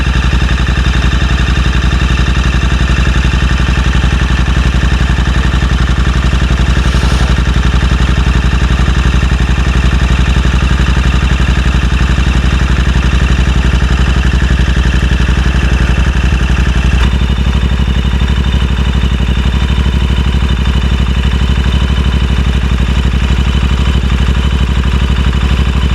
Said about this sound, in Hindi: चलो भाई, दोनों बाइक स्टार्ट हो गई।